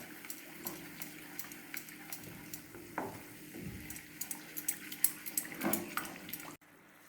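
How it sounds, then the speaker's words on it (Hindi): Kashmiri dum aloo masala is stirred nonstop in a pan as it comes to a boil: soft bubbling under scattered spoon scrapes and clinks, close by, cutting off abruptly at the end. "इसको हमें लगातार चलाना है जब तक इसमें खौल नहीं आ जाता"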